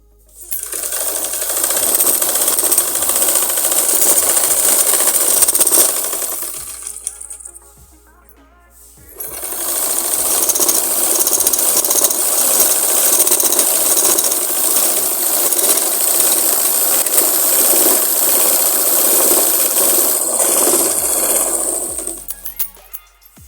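A sewing machine stitching a strip of fabric folded over buckram, a loud close continuous whir with a fine rapid needle patter, running for about six seconds, pausing briefly, then running again for over ten seconds, with no talk.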